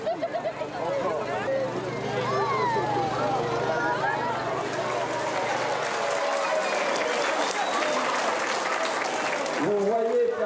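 A large crowd in Nouméa cheers, claps and chatters as it greets Santa Claus, a dense sustained roar of voices and applause with a low drone for the first stretch.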